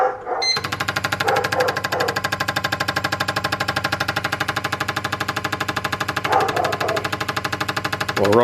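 Turbocharged Honda Civic Si with a swapped B18C1 engine idling close by, a steady rhythmic pulsing loop with a few brief louder surges throughout.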